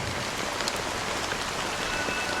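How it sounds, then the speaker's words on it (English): Steady rainfall in the video game Honkai Star Rail, a dense, even hiss of drops pattering on surfaces, constant and moderately loud with no voices. "But it's still raining."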